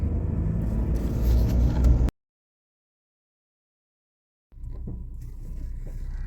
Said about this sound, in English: 6-mile loop test drive.